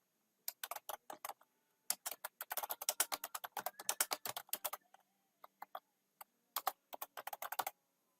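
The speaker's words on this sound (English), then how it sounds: "as soon as I start typing" Typing on a computer keyboard while taking notes in OneNote: crisp, close key clicks in quick bursts with short pauses between runs and no voice.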